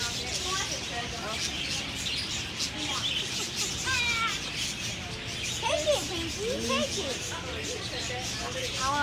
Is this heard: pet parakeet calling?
yes